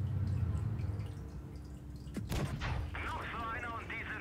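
A tank main gun fires in World of Tanks Blitz, one sharp blast that rings out over a continuous engine rumble, with commentary talking over the battle.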